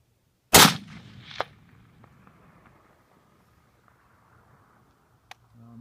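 A single loud, close rifle shot from a CMP M1 Garand fired at a steel silhouette target about 200 yards away, followed by a faint metallic ping from the plate and then quiet outdoor stillness.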